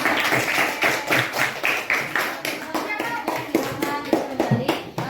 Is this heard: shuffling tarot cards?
no